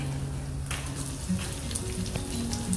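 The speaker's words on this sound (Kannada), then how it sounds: "ಈರುಳ್ಳಿ ಕೂಡ ಹಾಕಿ ಫ್ರೈ ಮಾಡಬೇಕು" Onions sizzle and crackle steadily as they fry with garlic in a pan, a close, continuous hiss broken by a few louder pops, with no talking.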